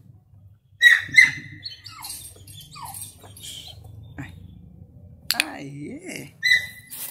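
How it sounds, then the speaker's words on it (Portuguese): A female Labrador puppy whines in thin, high-pitched cries that rise and fall in broken bursts, with a person briefly calling out nearby. "Esse que você tá ouvindo chorar é uma cachorrinha labradora"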